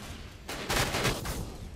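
Burst of heavy machine-gun fire in the shooter Ghost Recon, a short rapid volley of loud gunshots with a quieter lead-in, rattling densely for about a second before trailing off.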